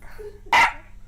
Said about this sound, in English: This dog is angry.